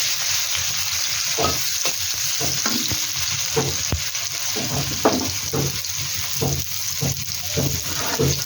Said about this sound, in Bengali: পেঁয়াজটাকে হালকা ফ্রাই করে নেব বন্ধুরা।